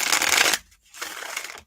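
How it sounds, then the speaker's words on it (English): A tarot deck is shuffled for a card reading in two quick riffling bursts separated by a short gap, close and crisp, with no talking over it. "Give it a shuffle."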